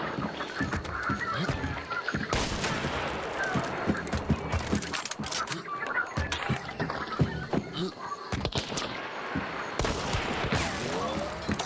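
Gunfire and other loud game sounds from the hunting shooter Hunt: Showdown, with dense overlapping bursts and sharp shots spread across the whole stretch, no speech.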